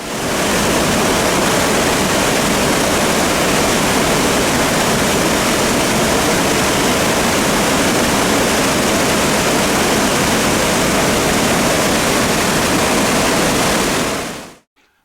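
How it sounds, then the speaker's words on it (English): Powerful rushing water of the River Blavet in the French countryside, a loud, steady broadband roar close by that holds unbroken for about fourteen seconds before cutting off abruptly. "The power of this water is phenomenal."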